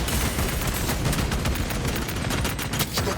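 Rapid automatic fire from an auto bolt rifle in Warhammer 40k Space Marine 2 during PvP, a loud, dense, continuous burst of shots with overlapping impacts, no talking.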